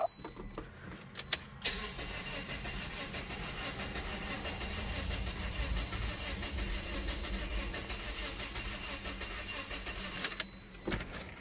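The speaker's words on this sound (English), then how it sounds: "So I'm going to try cranking this." A 2009 Toyota Corolla 1.8L engine is cranked with its injectors unplugged, giving a steady, continuous starter whir without catching, bracketed by brief clicks at the start and end.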